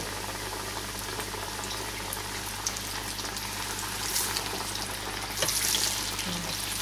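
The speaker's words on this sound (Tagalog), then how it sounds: "continue frying for about 12 to 15 minutes" Floured chicken wings deep-fry in oil in a small pan, giving a steady, close bubbling sizzle with scattered pops and a few brief louder crackles throughout.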